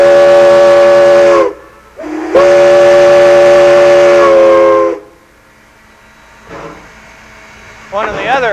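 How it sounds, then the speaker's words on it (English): Steam locomotive whistle sounding a signal: two loud, close, sustained tonal blasts with a short gap between, followed by quieter hissing and faint mechanical noise. "Now, 3 short blasts on the whistle when you're standing still means back up."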